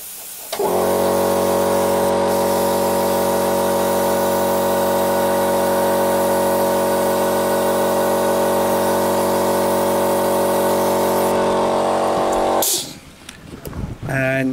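An airbrush fed by an air hose sprays paint in a loud, steady hiss with a constant hum that runs for about twelve seconds before cutting off sharply, followed by faint handling sounds.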